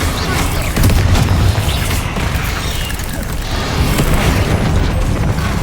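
Bombarda blasting spell exploding in Hogwarts Legacy, a dense rumbling boom with crackling debris that rolls on steadily amid heavy game combat noise, loud and close throughout.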